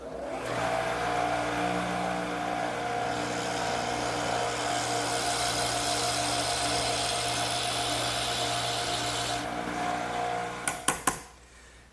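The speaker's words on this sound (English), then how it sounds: "this one I'm going to have to drill all the way through" A power drill whines steadily for about ten seconds, drilling all the way through a wooden trestle table brace, then stops with a few sharp knocks and clatters at the end.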